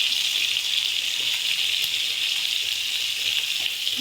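Fish fillets frying in hot oil in a pan, turned to cook the other side, give a steady, close, continuous hiss and sizzle with small crackles throughout, no talking.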